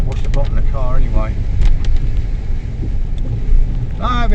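A car pushes through flood water during rain, with a constant low rumble and a rushing wash of spray underneath. Short whistling and squealing tones come and go, and a voice is heard at times.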